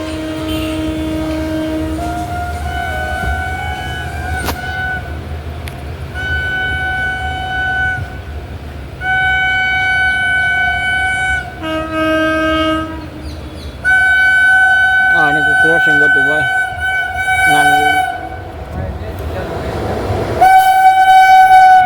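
A train rumbles past steadily and loudly, with long horn blasts sounding several times over the clattering wagons.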